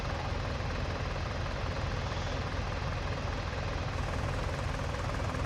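A tractor engine idles in a farming game, a steady broadband low rumble with periodic throbbing that holds evenly throughout, loud and unbroken with no voices over it.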